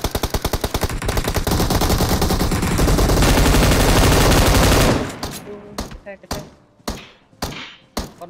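Rapid automatic gunfire in PUBG Mobile, a dense close burst of shots lasting several seconds, then separate loud single shots and short bursts ringing out at irregular intervals.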